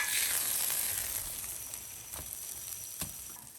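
Burger patties sizzle on a Blackstone griddle with a soft, continuous frying hiss and a few faint crackles and clicks, fading slightly toward the end; no one speaks.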